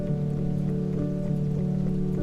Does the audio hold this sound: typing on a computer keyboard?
no